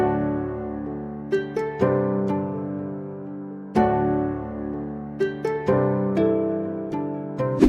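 Soft synth chords strummed in a steady pattern, with a plucked harp melody ringing over them; gentle, mellow and continuous with no voices.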